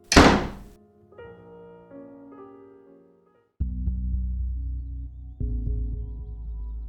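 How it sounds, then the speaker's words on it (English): A door slams shut with one loud, sharp thud at the start, then dies away. Quiet sustained tones follow on their own, with no voices. "opened a door, walked through, and cast one last glance in my direction before slamming the door shut"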